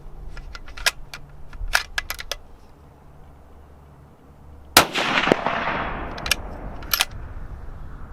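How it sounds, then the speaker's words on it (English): A Bergara B14 HMR rifle in 6.5 Creedmoor fired at a range, one loud sharp report with a long echoing tail after a series of lighter clicks and taps, close by, with no talk. "We're gonna be taking the shots starting close to far."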